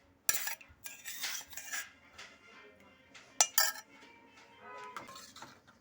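A spoon scoops curd into tomato sherwa gravy in a pot, giving several close metallic clinks and scrapes against the pot rim, with quieter stirring between.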